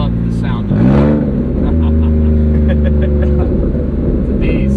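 Wraith Interceptor with a Porsche flat-six engine downshifting, a loud, throaty rev that rises sharply then settles into a steady droning engine note heard from inside the car, with someone talking over it.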